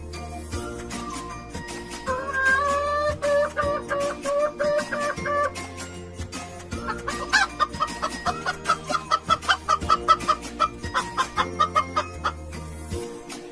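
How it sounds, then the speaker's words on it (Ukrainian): A hen clucks repeatedly in quick, choppy bursts that speed into a rapid cackle, heard over soft background music. "це сокоча курка."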